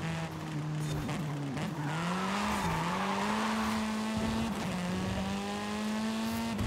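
A race car in Forza Horizon slides through corners, its engine holding a steady whine while tires squeal and skid continuously, loud and close throughout.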